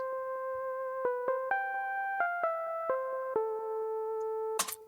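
A soft supporting synthesizer doubles a piano lead line, playing a slow run of sustained notes with clear attacks, alone without voices; a brighter burst flares at the very end.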